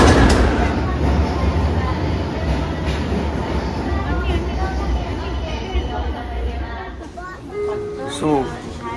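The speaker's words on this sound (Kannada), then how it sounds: "ನಿಮಿಷಕ್ಕೆ ಒಂದೊಂದು ಟ್ರೈನ್ ಹೋಗ್ತಾ ಇರುತ್ತೆ." A train at a station platform in Tokyo, Japan, gives a steady rumbling roar with rail noise throughout, while people talk nearby over it.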